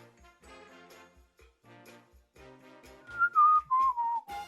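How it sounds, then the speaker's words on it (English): A person whistles a short sliding tune directly into a microphone, loud and close, following a stretch of quieter talk. "Please never whistle into a microphone."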